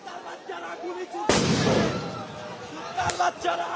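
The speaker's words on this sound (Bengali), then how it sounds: "দেখতে পাচ্ছেন যে সাউন্ড গ্রেনেড নিক্ষেপ করে পুলিশ, কিন্তু তাদেরকে ছত্রভঙ্গ করার চেষ্টা করছে।" Police sound grenade going off at a protest on Manik Mia Avenue outside Parliament's south plaza in Dhaka: one loud sharp blast that rings out and fades, then a smaller pop, over crowd noise and voices.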